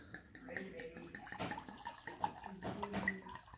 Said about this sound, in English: Pour myself a good glass.